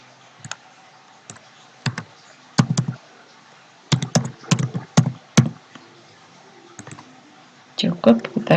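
Sparse computer mouse clicks come in small bursts with pauses between them, fairly close and soft, as someone navigates ExamView import software; a voice speaks briefly near the end.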